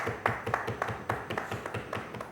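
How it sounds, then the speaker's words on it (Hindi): Hands clap in a quick, fairly regular rhythm as an audience applauds a guest at a Ramadan iftar talk show, the sharp claps close and distinct rather than a dense roar. "तालियां जी उसामा के लिए।"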